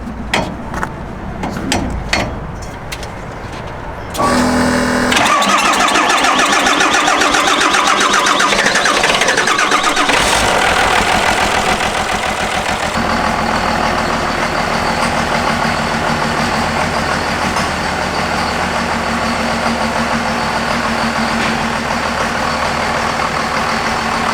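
D-Rod hot rod engine cranking and catching, then revving hard into a loud, sustained roar that settles to a steady high idle, close and dominant throughout.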